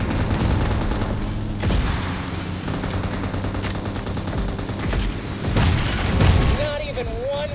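Rapid bursts of gunfire and booming blasts from the video game Rage fill the stretch, loud and continuous, with voices speaking over the shooting.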